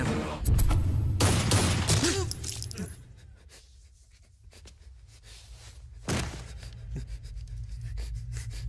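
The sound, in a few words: gunfire in a Hindi movie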